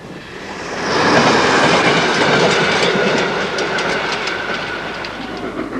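A train passes along the Liverpool and Manchester line over marshy ground, a loud, sustained roar and rattle that swells after the first second and holds steady with rhythmic wheel clatter, no voices.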